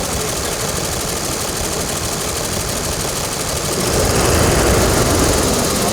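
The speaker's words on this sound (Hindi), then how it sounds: "अब जैसे एक्सीलेटर दे रहे हैं" Commercial vehicle engine running with a steady loud drone that swells louder near the end as the accelerator is pressed, close and continuous with no voices.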